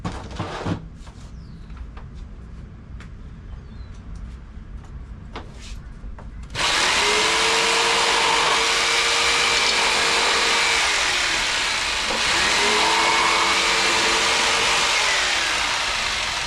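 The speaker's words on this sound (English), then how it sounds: "So I'm gonna use the jigsaw to round them so it's more like a daisy kinda." A jigsaw rounds off wooden fence pieces, starting after a few seconds of quiet shop background and then running loud and steady, its whine dipping briefly midway through the cut.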